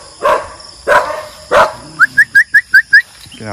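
A dog barks three times, loud and close, during an outdoor search for spiders, followed by a quick run of six high chirps.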